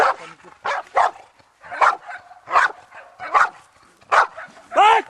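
Repeated loud barks from a dog in protection training, arriving in bursts about every second with a short whimpering yelp near the end, close to the listener.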